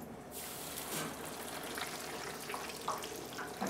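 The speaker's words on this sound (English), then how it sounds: "I'm gonna start frying the fries" French fries frying in hot oil at a taco shop chef demo, a continuous close hiss and crackle with steady bubbling throughout.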